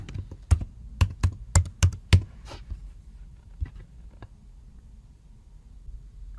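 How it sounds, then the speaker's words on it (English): An Apple ID and password are typed on a computer keyboard in a burst of loud, close keystrokes, followed by a few scattered softer taps over quiet room noise. "you'll be asked for your Apple ID and password."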